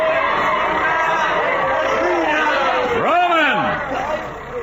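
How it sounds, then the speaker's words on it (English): A crowd cries out in a 1950 radio drama about the Ides of March, a dense babble of many shouting voices with one rising, swooping yell standing out near the end. "when they saw him, a cry went up"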